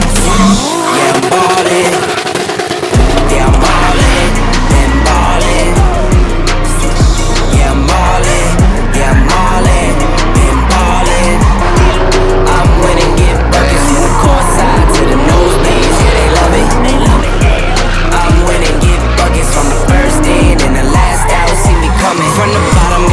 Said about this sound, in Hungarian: Konkrétan alattunk fognak driftelni az autók